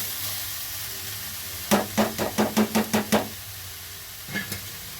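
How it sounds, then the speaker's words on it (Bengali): Grated carrots frying in ghee for carrot halwa, with a soft sizzle under a run of about eight sharp, evenly spaced knocks of a spoon against the pan, followed by quieter hiss and two more taps. "গাজরটাকে একটু ভেজে নেব"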